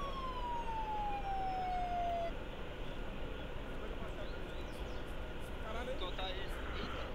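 Police car siren in the video game Arma 3, a rising-falling wail that sweeps down over about two seconds, then fades into a steady dense background of game noise and engine rumble.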